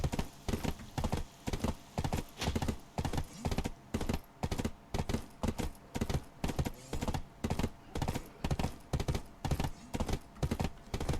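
Horse hooves clip-clop in a steady, even walking rhythm in the video game Black Desert, close and continuous with no talk over them.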